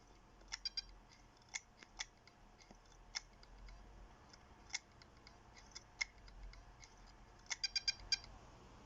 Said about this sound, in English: The hard drive was making some really weird clicking and like beeping noises